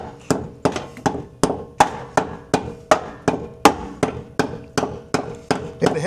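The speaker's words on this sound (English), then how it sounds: "It'd help if you'd hit the bolt instead of hitting the inverter, Tad." A hammer strikes a bolt on an inverter in a steady run of about fifteen sharp metallic blows roughly every 0.4 seconds, close and loud, with no talk.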